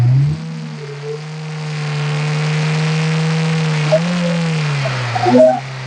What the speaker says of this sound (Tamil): நல்லா ரேஸ் பண்ணுப்பா.